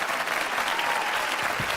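Steady applause from a poetry recital audience fills the whole stretch, a dense even patter of many hands clapping at moderate loudness.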